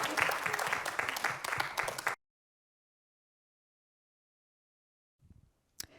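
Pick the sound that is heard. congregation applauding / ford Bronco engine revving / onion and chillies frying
congregation applauding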